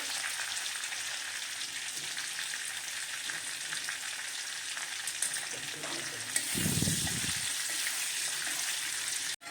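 Garlic roasting in a pan over a low flame, a steady soft sizzle and crackle throughout, with a brief low thump of stirring near the end.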